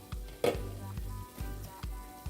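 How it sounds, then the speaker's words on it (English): A pot of water boils on a stove for Jamaican boiled cornmeal dumplings, giving close, steady bubbling with a sizzle-like hiss. Low pulses and a single sharp clink sound near the start. "So now that our water has boiled up"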